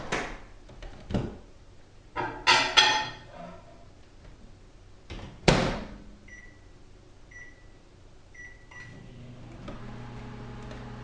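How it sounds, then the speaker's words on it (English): A microwave oven melting chocolate chips and almond bark in a microwave-safe bowl: a few clunks and clicks of the door and buttons, then a series of short beeps followed by a steady low running hum that continues to the end. "Next, we're going to melt the chocolates in the microwave."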